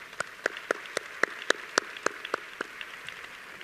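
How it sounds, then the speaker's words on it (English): About a dozen scattered handclaps ring out at a Sustainable Cleveland 2016 Summit, each sharp and separate, fairly quiet, with no voices over them. "Yeah, big round of applause."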